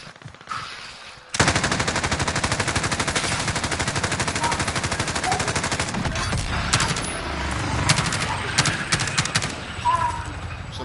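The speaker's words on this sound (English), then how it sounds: "Somebody's shooting at us close by." Call of Duty Plunder gunfire begins after about a second of near silence. Rapid automatic bursts then ring out loud and close, almost nonstop, with denser volleys near the end.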